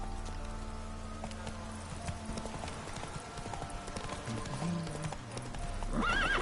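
Roach, a horse in The Witcher 3 on PS5, clip-clops at a steady gallop through most of the stretch over constant game music, then gives a clear whinny near the end.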